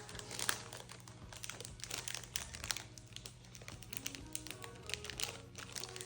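Crinkling cellophane wrapper handled near the mic, scattered crisp crackles and taps over a steady low hum, no talking.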